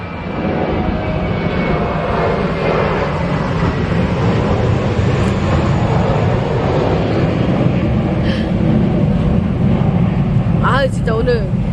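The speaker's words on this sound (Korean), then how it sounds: "비행기가 안 도와주네요. 비행기 소리가." An airplane passes overhead outdoors at a succulent plant nursery, its broad engine rumble droning steadily and loudly for the whole stretch, with a few brief higher whistling tones near the end.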